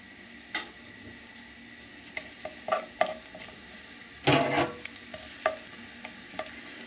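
Garlic frying in oil that has not fully heated gives a faint sizzle, broken by separate clicks and scrapes of a utensil and one louder burst of stirring near the middle. Close and fairly quiet, with no voices.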